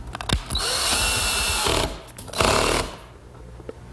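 A drill drives screws into wooden ladder pieces, with two whirring bursts of about a second each, loud and close, separated by brief pauses and small clicks.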